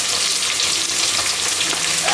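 Chopped onion, green chilli, ginger and garlic sauté together in hot oil for a Kerala-style chicken curry, giving a steady, close, continuous sizzle with soft stirring and no voices.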